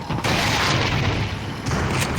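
A grenade blast in the virtual-reality game Resident Evil 4 lands as a loud, sustained boom with a heavy low rumble. It holds for about two seconds, with a second surge of energy near the end.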